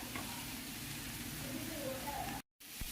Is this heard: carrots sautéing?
yes